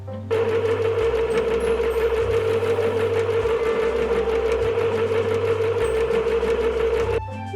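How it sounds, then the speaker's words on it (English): A sewing machine stitches stuffed toy pieces together, a loud steady mechanical whir running continuously for about seven seconds with small shifts in its hum, then stopping. "Let's sew it all together."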